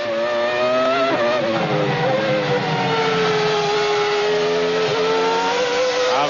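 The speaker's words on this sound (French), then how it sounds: "Avec Schumacher sur le V10 Ferrari, vous l'entendez, à la chasse au McLaren" Ferrari V10 Formula 1 car driven by Schumacher at the Hungaroring in 1998, a loud sustained high-pitched engine wail with slight pitch dips and rises as it chases through the circuit, steady throughout.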